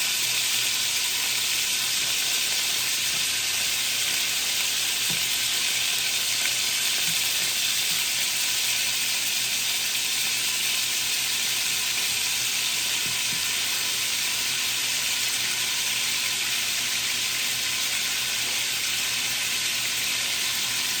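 Oxtail browning in a hot pan on a Jamaican stovetop gives a steady, close sizzle that holds unbroken at an even level, with no talking.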